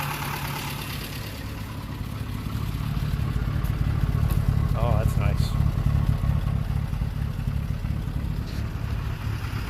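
A 1948 Peugeot 202 engine idles steadily with a low, even rumble and faint clatter, while a person speaks briefly over it.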